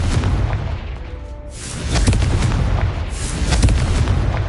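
Heavy booming blasts from a fire-spell explosion in a Harry Potter video game, two loud rumbling bursts with sustained low-end roar spread across the moment.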